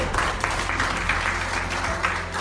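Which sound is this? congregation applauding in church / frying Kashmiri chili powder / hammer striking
congregation applauding in church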